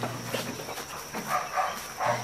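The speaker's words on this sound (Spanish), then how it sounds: "Clarita, una perra que pasea en carretilla." A dog riding in a wheelbarrow gives short, soft barks and yelps over a steady background hum, several faint bursts spread across the moment.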